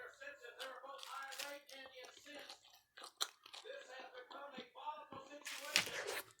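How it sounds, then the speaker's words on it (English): A few crisp crunching bites with chewing in between, close to the ear, with short bursts of speech around them. "I'll take a bite for you. You should be able to hear it"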